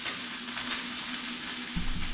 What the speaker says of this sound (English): I'm going to get back to frying up my prime rib